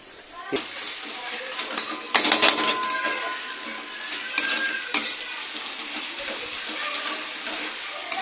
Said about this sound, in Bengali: এতে পেঁয়াজ ভাজা, এতে একটু নুন দেবো